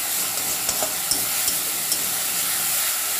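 Spices sautéing in a hot pan for a potato and lentil vegetable curry, a steady close sizzle and hiss with soft stirring scrapes breaking through now and then, with no voices.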